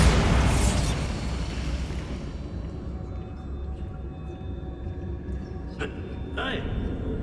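Bombarda blasting spell in Hogwarts Legacy bursting with a loud, broad boom that decays over about two seconds into a quiet rumble, followed by a couple of short sharp impacts.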